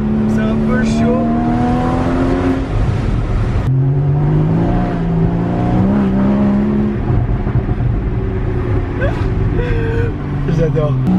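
A Porsche Boxster Spyder engine roars and revs loudly with the windows down, its pitch climbing and dropping as it accelerates, with a voice talking over it.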